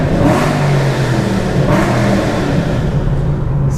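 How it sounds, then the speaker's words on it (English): Car engine revving hard and continuously, a loud droning roar with throttle blips swelling and easing over a few seconds, close up and with no talking over it. "You just rev that shit up all day long."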